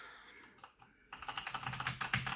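Typing on a Corsair K95 RGB mechanical gaming keyboard, a few scattered key clicks followed by a quicker run of crisp clacking strokes, close and fairly quiet, with no talk.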